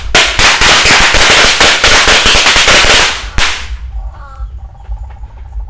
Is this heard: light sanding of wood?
no